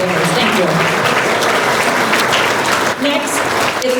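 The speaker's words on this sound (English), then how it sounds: "One more round of applause for all of the Big City Beautification Award winners." Applause from a banquet audience at a chamber of commerce annual awards dinner fills the room, steady and continuous clapping with some voices mixed in.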